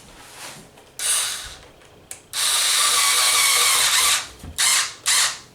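Power driver tightening a screw on a Traxxas Maxx RC truck's front steering knuckle, several short high whirring bursts of varying length, close and loud with pauses between.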